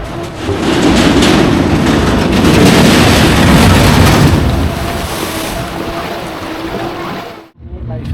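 Passenger launch boat travelling on water at an amusement park, with a continuous engine drone and water wash from on board that fades briefly near the end.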